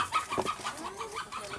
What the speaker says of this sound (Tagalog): Katangahan na manok.